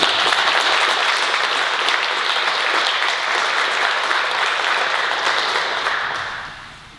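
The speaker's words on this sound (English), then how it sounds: "our team deserves a round of applause for their hard work in making it" A school district audience claps for the district team at a State of the District event, with an even, full wash of applause that holds steady for several seconds and then tapers off near the end.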